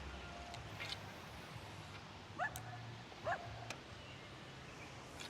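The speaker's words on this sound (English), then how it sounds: "I really wish that dog would stop barking." A dog barks a few times in the distance, short sharp yips spaced apart over quiet outdoor background noise.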